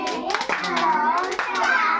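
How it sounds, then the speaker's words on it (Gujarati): Hands clap a few times during a children's counting activity, with a child's and an adult's voices talking close by over the brief, soft claps. "આ કેટલી તાળી થઈ"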